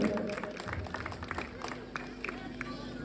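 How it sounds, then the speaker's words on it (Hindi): Audience applause at a Ramleela event in Billawar, a steady wash of clapping from a crowd that carries on throughout, with faint background voices underneath. "इलेक्ट्रिसिटी डिपार्टमेंट से संजू बसोत्रा जी, तालियां इनके लिए भी हो जाए।"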